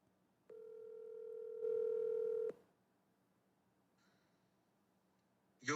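Telephone dial tone while placing a phone call, a steady two-second hum that grows louder, ends in a click, then a faint tone and a sharp sound close by after a quiet gap.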